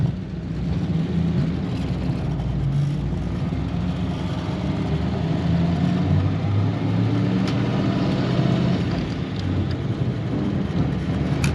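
A 1938 Ford Deluxe sedan's flathead V8 idles, a steady low rumble with even throb running continuously and fairly loud, heard from inside or near the car with no talking.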